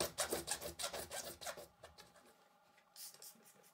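A hand saw rasps back and forth through acrylic plastic in quick, rhythmic strokes, then slows and stops, leaving faint scraping.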